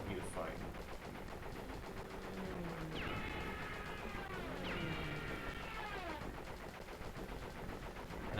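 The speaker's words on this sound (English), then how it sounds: "And I'm just shooting missiles." Rapid game gunfire from missiles being shot in Crash Bandicoot 3, a dense continuous volley of bursts with sweeping whistling tones layered throughout.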